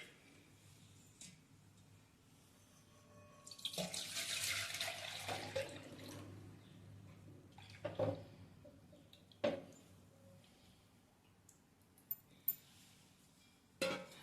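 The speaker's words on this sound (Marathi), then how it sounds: "हे जे पाणी आहे ते एका पातेल्यात काढून घेते" Drained water poured from a sieve into a pot while making puran poli, a quiet kitchen with a brief rushing pour, then scattered drips, clinks and light knocks, close and faint.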